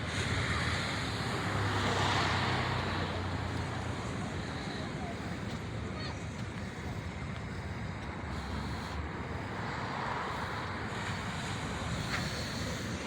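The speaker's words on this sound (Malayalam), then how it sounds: "തിരമാലകളൊക്കെ ഇങ്ങനെ അടിക്കുന്നുണ്ട്" Ocean waves at Payyambalam beach at midnight make a steady, dense roar. Wind buffets the microphone throughout, and no separate wave breaks stand out.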